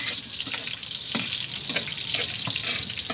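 Chunks of pork humba frying hard in their own rendered fat, a dense, steady crackling sizzle with sharper pops spattering throughout, close and continuous with no talk.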